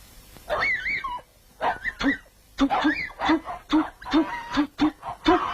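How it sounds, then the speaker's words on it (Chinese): A small puppy whimpers and yelps in a film scene at an old temple, a rapid series of short, high cries, close by and alone. "这是你弄来的小狗吗？"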